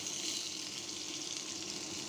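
Onions fry in a pot on the stove for a Bengali hilsa fish curry, giving a soft, even, continuous sizzle heard close up with no talking.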